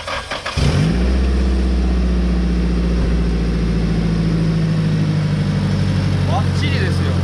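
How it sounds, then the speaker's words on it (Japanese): A flood-damaged Nissan Sileighty cranks briefly and fires, then settles into a loud, steady idle that runs close by, with people speaking faintly around it. "エンジンかけますか？"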